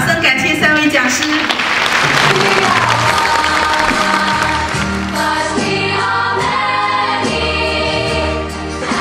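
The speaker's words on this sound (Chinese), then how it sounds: "再一次掌声感谢三位讲师。" Applause for three lecturers at the 2012 World Chinese Insurance Conference, a sustained wash of clapping from a large audience with scattered cheers, loud and steady throughout, carried over background music.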